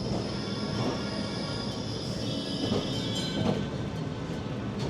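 A Kolkata tram rumbles steadily as it accelerates, with faint clacking of wheels and a thin high whine, the noise holding constant, heard from on board.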